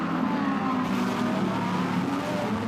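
GT race cars at the Macau GT Cup, a tricky street circuit, roar as a dense, loud engine wall with no gaps, sustained through the whole stretch.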